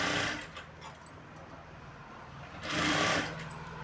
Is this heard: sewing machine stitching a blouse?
yes